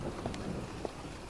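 Steady rain falls in the video game Phantasmat, a soft continuous hiss with faint drips, quiet and alone.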